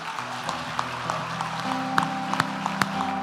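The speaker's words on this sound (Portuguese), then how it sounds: "Pode aplaudir o Senhor." A church congregation applauds on the closing night of a Carnival conference, a soft, diffuse patter of clapping sitting under sustained keyboard music with a few sharper claps standing out.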